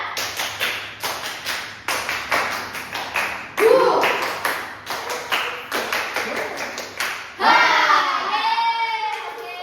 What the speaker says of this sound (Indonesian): tepuk satu, tepuk dua,